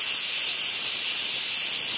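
Pressure cooker hissing loudly as steam escapes before its first whistle, a steady, close, unbroken rush.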